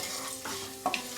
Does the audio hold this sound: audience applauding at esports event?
no